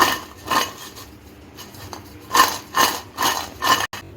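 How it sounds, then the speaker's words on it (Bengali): A spoon clinks and scrapes against a bowl while chopped potato, chili powder and coriander leaves are mixed together, giving a series of close, uneven metallic knocks in bursts with pauses between. "আর লঙ্কা গুঁড়ো ধনে পাতা কুচি সব কিছু একসঙ্গে মিশিয়ে নিচ্ছি"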